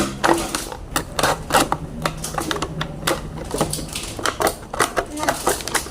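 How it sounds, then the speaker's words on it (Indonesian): Scissors cut paper for a handmade fidget toy, with rapid crunchy snips and rustling in irregular bursts, close by, alongside talking. "Digunting semua, dipotong semua."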